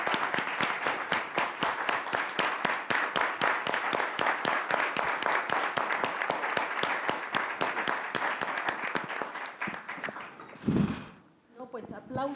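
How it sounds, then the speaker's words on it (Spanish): Clapping for a colleague after she speaks at a public-sector webinar, brisk and evenly spaced over a long stretch, fading out before a voice briefly speaks at the end. "aplauso de pie para nuestra colega"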